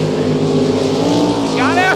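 Naturally aspirated drag race car on a pass at a Sick Week event in Gainesville, a loud sustained engine roar with a rising whine near the end, while an announcer talks over it.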